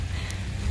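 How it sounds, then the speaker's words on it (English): Rain falling in a park during an evening jog, a brief patch of steady hiss and patter with faint low rumble. "It's raining."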